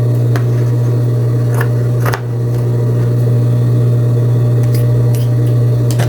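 Scissors trimming the tip of a sewn fabric seam, a few crisp snips near at hand over a loud steady machine hum.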